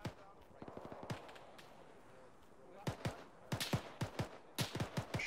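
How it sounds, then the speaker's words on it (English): Gunfire in a tactical shooter video game: scattered single shots and short bursts at mid distance, sparse at first and then clustering into quicker volleys toward the end. "Shots."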